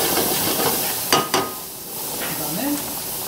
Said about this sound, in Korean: 여기서 그 허브를 살짝 볶아주면 향이 더 좋거든요